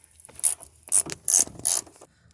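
A ratchet wrench works a 13 mm bolt on the rear door of a Ford Transit 350 short-top van, giving four short, close clicking ratchet bursts with quiet gaps between them.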